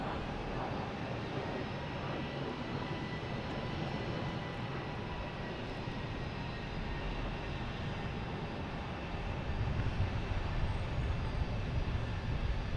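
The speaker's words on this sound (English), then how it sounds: "next coming in is a JetBlue from Orlando, an A220." A JetBlue Airbus A220 arriving from Orlando lands at Boston Logan, its faint, distant engine rumble holding steady and then growing louder and deeper near the end.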